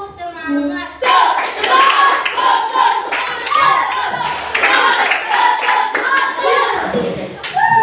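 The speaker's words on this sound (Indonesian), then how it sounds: "Tiga kali tepuk semangat" Schoolchildren in an Indonesian classroom do a rhythmic spirit-clapping routine, loud, close hand claps in quick patterned bursts, with children's voices chanting along after a brief spoken count-in.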